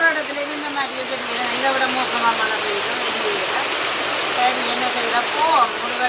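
Heavy rain pours down in a dense, steady hiss like water from a pipe, loud and continuous, with a voice talking faintly underneath throughout.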